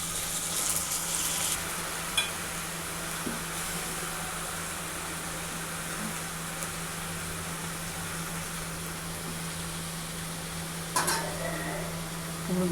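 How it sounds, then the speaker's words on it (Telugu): Ridge gourd and onions frying in a pan give a steady close sizzle throughout, with occasional scrapes and clinks of a stirring utensil against the pan. "కట్ చేసి పెట్టుకున్న బీరకాయలన్నీ ఇప్పుడు బాండీలోకి వేసుకున్నాం."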